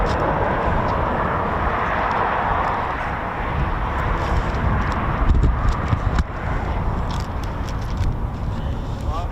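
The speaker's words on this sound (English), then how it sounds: "This is the Beechcraft Shadow R1 based here at Waddington." A Beechcraft Shadow R1 aircraft flying at an airbase, a loud continuous engine roar and rushing wind with a person talking over it.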